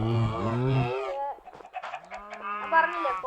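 Chickens in the Minecraft video game cluck and squawk in a few short, loud calls, with a brief pause before a longer call near the end.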